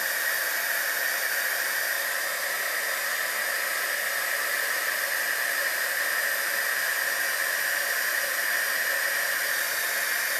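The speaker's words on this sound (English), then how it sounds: "Go ahead and emboss this, heat emboss it." Heat gun melting white embossing powder on paper, a continuous loud, even blowing hiss held steady throughout with no talking.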